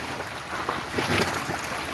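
Choppy water sloshing and slapping against the hull of a moored yacht in rough water in Juneau, Alaska, mixed with gusty wind noise, steady and fairly loud throughout.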